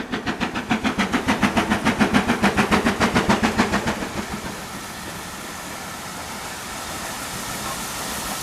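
Steam train arriving at a station with an audience aboard, its rhythmic chuffing loud and close for about four seconds, then fading into a steady rumbling hiss as it rolls in.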